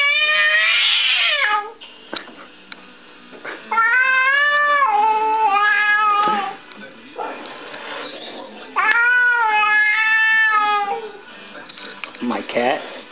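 A cat frightened by a Halloween mask lets out long, drawn-out yowls and caterwauls in three loud bursts, close by, with short gaps and a brief rising cry near the end.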